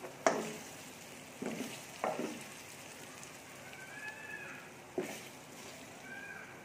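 Spices being stirred into beef karahi frying in a pan, with a few distinct scraping strokes of the spoon over a low, steady sizzle at close range.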